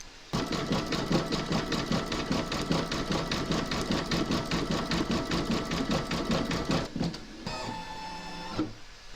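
An embroidery machine satin stitches the border of a reindeer slipper in a fast, loud, rhythmic chatter that runs steadily, then shifts to a brief higher whirring tone before stopping.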